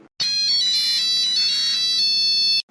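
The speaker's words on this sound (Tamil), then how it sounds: "யாரு ஃபோன் அடிச்சுக்கிட்டே கிடைக்கே?" A mobile phone ringtone rings loud and close, a bright steady electronic tone that starts abruptly and holds for over two seconds before cutting off, with no talk over it.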